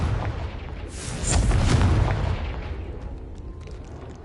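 A Confringo fire spell detonates in Hogwarts Legacy with a rumbling boom that swells after a second, then rolls off into a fading, hissing tail.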